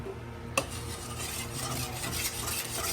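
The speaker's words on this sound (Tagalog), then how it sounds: "and then haluin na natin yan" Tofu sisig with Japanese mayo and liquid seasoning being stirred in a pan: continuous mixing and scraping against the cookware over a faint sizzle, opening with one sharp clink of the utensil.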